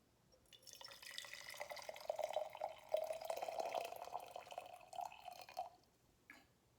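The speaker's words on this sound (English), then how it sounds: "So first, we're going to pour the hot water into our jar." Hot water is poured into a jar for a water-cycle experiment, producing a soft, steady trickling pour that lasts about five seconds, faint and close, with no talking.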